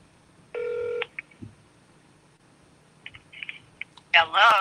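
A telephone dials out, one long steady touch-tone followed by several short beeps, faint clicks and a burst of chirpy tones at the end, with a voice briefly heard.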